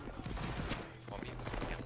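Volley gunfire crackles continuously in a large battle video game, a dense mass of overlapping shots under a commander's shouted orders to keep firing.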